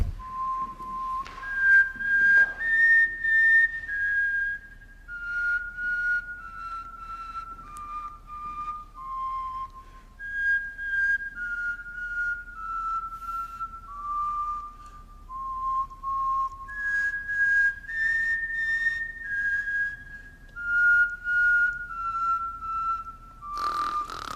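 People attempt to whistle, producing a long run of thin, breathy tones that rise and fall in short phrases, clear and close, with airy gaps and blowing between the notes.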